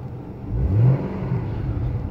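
A Rover 75 car engine while driving gives a low interior hum that swells briefly as the engine revs, then settles back to a steady drone.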